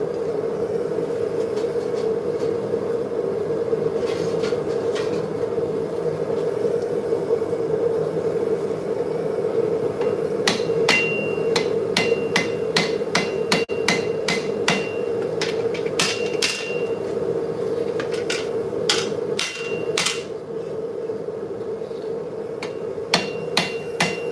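A small 2-pound hammer strikes hot metal during forging. Sharp, ringing blows land close by, first sparse and then in rapid runs of repeated strikes, over a steady background hum, with no talk.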